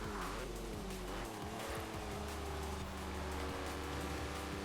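Cars race in the Forza Horizon 4 video game as a Tamo Racemo overtakes, engines droning loudly with shifting revs and tire noise throughout, no talking.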